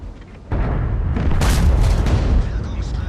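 A tank cannon fires in World of Tanks on the Mauschen Mines map: a heavy, close boom comes in abruptly and rolls on as a loud, thick rumble that fades slowly, with a voice talking over it.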